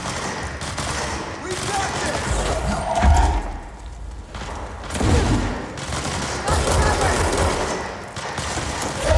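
Bursts of automatic gunfire in the video game Control, heavy and close, swelling and fading in waves with deep thumps between volleys.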